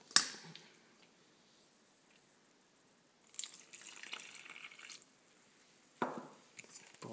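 Water pours into a bowl for stuffed Arabic bread dough in a few short, faint splashes separated by quiet gaps, close by in a still kitchen.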